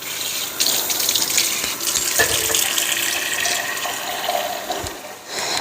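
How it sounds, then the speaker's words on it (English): Warm tap water gushes steadily into a 4-cup measuring cup, a close, continuous rushing splash with no voices. "I'm going to fill the 4-cup measuring cup with warm water."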